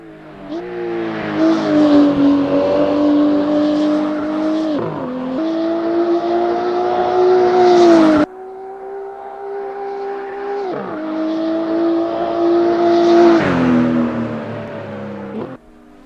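BMW M235i Race Car in the Assetto Corsa sim, its engine loud and up close as it climbs steadily through the revs, upshifting in stepped pitch drops, then a cut and another long pull through the gears.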